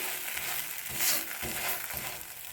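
Chickpea masala dosa cooks in a pan over a medium flame, a steady, soft, close sizzle with faint crackles and no voices.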